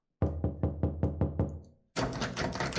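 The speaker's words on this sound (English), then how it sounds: "Someone was pounding on the door." Heavy pounding on a door, seven loud evenly spaced thuds in a quick row, followed by a burst of broad noisy rumble after a brief silence.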